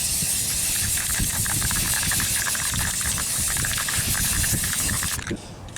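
Steady broadband hiss of spray paint being applied to a car, flat matte paint on a rim, running continuously and close before cutting off near the end.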